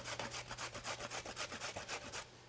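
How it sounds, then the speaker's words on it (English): A carrot is grated by hand, producing a quick series of rhythmic rasping strokes, about a dozen evenly spaced scrapes, close and distinct, ending in quiet. "I'm actually going to grate about half this carrot in"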